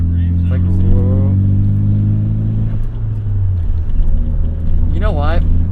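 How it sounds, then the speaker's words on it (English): A 1998 Eagle Talon TSi engine revs in first gear, a loud droning tone rising and falling across the clip, with a voice exclaiming over it at the start and again near the end. "That has a really cool sound in first gear."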